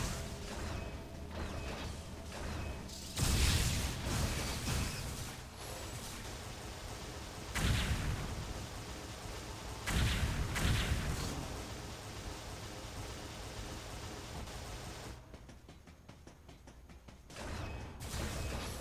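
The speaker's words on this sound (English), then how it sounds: "I'm trying to figure out why they sound like that when I run into them with screw attack. They literally sound like little explosions." Enemies struck by the screw attack in the video game Metroid Other M, each hit bursting like a small explosion. Several loud crashing bursts stand out over a steady mechanical game noise, with no talk.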